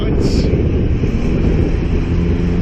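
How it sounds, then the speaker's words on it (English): Steady wind rumble in Cairns in January buffets the microphone throughout, a low continuous roar with no clear gusts standing out. "I can hear a bit of the wind now"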